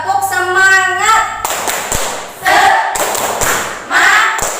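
A school class claps together in a rhythmic spirit-clap routine, loud bursts of hand claps and thumps in repeated patterns, mixed with voices chanting along.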